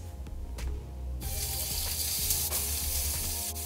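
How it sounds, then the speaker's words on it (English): Lamb kebab sizzles on an oiled, preheated grill pan, a loud steady hiss that jumps up sharply after a quieter start and holds continuously, with faint clinks over it. "I'll sprinkle some oil to grease it and then grill the kebab in batches."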